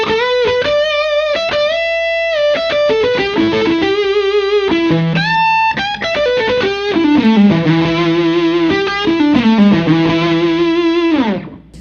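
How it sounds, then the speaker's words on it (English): Electric guitar through a Chase Tone preamp on a pedalboard, set for a creamy, Marshall-like overdriven tone, plays a steady run of sustained chords and single-note lines, loud and close, with no talking. "this Chase Tone preamp actually sounds really great and gets it to do a Marshall-like sort of tone and gets it creamy"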